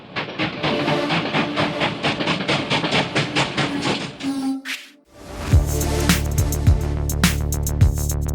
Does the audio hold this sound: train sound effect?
yes